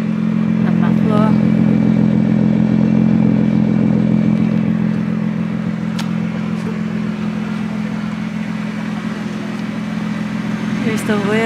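A Nissan GT-R R35, seen in Hokkaido, idles through its muffler with a steady, deep, loud drone close by, holding even throughout while people talk over it.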